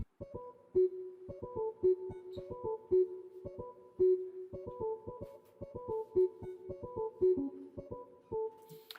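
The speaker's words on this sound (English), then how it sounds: "BS Clean Electric, and it sounds like this on its own." A Sakura BS Clean Electric electric piano patch plays a soft, repeating chord riff on its own, clean plucked keys in a steady rhythm, fairly quiet and with no drums or voices.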